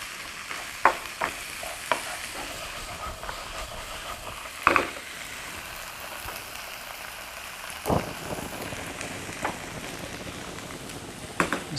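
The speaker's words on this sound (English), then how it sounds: "we want to cook this now on a high heat as possible and just basically keep that moving, keep it stir frying" Rice noodles, tofu, corn, cabbage, ginger and chilli stir frying in a pan on high heat: a steady sizzle with irregular scraping clacks as the food is kept moving.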